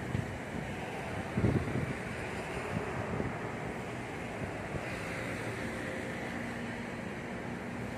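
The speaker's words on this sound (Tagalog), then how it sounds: "Ayan, ang dagat." Steady roar of sea surf during a typhoon in the Philippines, with wind buffeting the microphone, a continuous broad wash of waves with no voices.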